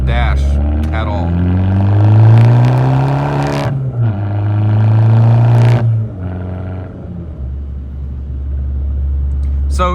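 A car engine blips and revs through heel-toe rev-matched downshifts, loud and close, with rising and falling engine pitch over a steady drivetrain rumble.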